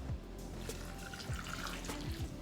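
Chicken broth poured into a cooking pot, a faint steady liquid trickle with small splashes and drips, no voices.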